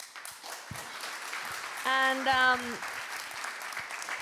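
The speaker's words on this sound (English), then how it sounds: "please join me in giving a big round of applause" Audience applause at a milestone event: a steady, moderate rustle of clapping, with a brief spoken voice cutting in partway through.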